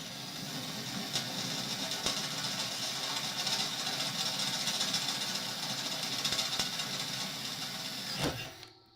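A 3 mm drill bit bores into a steel gate hinge in a cramped spot, giving a steady, loud grinding whir for about eight seconds before it stops abruptly.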